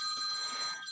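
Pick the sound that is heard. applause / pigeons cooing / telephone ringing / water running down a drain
telephone ringing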